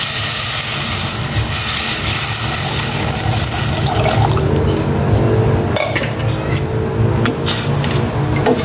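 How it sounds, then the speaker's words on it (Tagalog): Water being poured into a cooking pot holding pork cubes and seasoning for sinigang, a steady liquid fill that runs continuously and fairly loud with no voices. "Maglalagay na rin ako ng tubig para sa saba."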